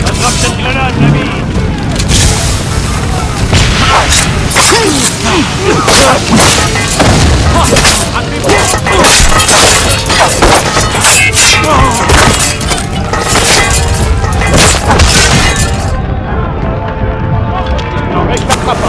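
A grenade goes off during a fight in the video game Assassin's Creed Rogue, with loud booms, crashing debris and gunfire in a dense, continuous battle din before a sudden drop near the end.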